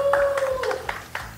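A handful of separate claps from people in a house, sharp and fairly close, spaced irregularly over a second or so, with a faint tone and background voices.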